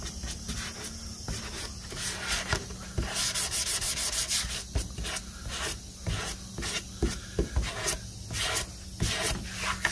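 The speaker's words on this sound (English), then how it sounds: "I want to further smooth out this Bondo transition." Hand sanding smooths a Bondo-filled edge on an epoxy countertop, giving close, rhythmic scratchy strokes that repeat in short bursts with brief pauses between them.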